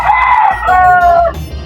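A rooster crows once, loud and close, a drawn-out call of about a second and a half with no talk.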